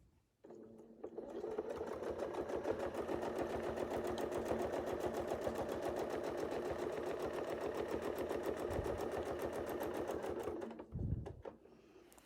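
Sewing machine stitching in a long, even run of rapid regular strokes lasting about ten seconds, moderately close, then slowing and stopping with a couple of soft thumps.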